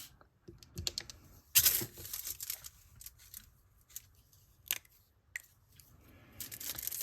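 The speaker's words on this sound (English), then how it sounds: "Now I'm going to take my aluminum foil." Aluminum foil being handled for Sharpie-stamping nail art, giving close, quiet crinkles and sharp rustling bursts scattered through the stretch with brief pauses, no talking.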